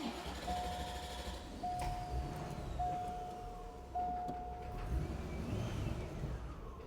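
A 35-year-old C4 Corvette's engine runs with a rough, uneven idle, a low steady rumble with faint intermittent beeps over it.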